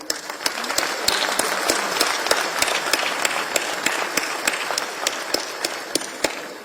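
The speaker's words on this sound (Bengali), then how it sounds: "আমরা সবাই মিলে তাদের জন্য একটা হাততালি দিই।" An audience at a formal gathering applauds medal recipients as they stand, giving a steady, close round of clapping with sharp individual claps that lasts throughout.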